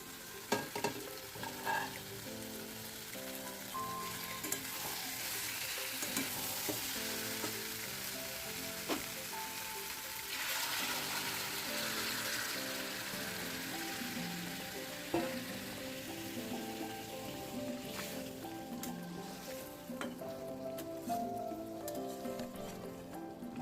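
Meat and potatoes fry with spices in a pan, producing a continuous close sizzle with stirring scrapes; faint tonal background sounds run underneath and no one talks.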